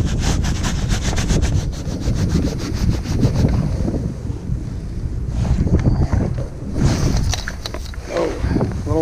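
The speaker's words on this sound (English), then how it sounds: "a little windy today" Steady gusty wind buffets the microphone outdoors while carp fishing, a loud, continuous rumble with occasional rustling bursts and no clear talk.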